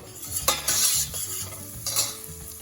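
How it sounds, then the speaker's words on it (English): Garlic cloves, ten of them, sizzle in a tablespoon of ghee on a stove, with bursts of frying hiss and light utensil clinks against the pan; no one speaks. "I'm gonna put 1 tablespoon of ghee, clarified butter, 10 cloves of garlic."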